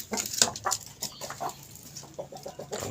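A rooster clucks repeatedly at close range in short, uneven bursts, with no voices.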